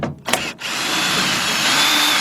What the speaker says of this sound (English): So I got my 5mm hex bit hooked onto my driver.